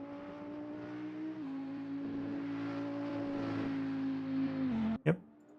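A race car in the RaceRoom racing game drones steadily from an outside view, its engine note holding and shifting slightly before a sharp, loud pop near the end.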